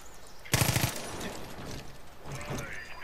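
Automatic gunfire in Far Cry 5 on PS4: a sharp, loud rapid burst of about five shots, followed by fainter, scattered shots and rumble in the background.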